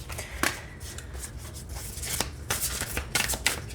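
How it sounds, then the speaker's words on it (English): Tarot cards being shuffled up close, a series of soft riffling and rubbing bursts with brief crisp snaps, no talking. "get used to the feel of the cards and the thickness of the cards when you're shuffling."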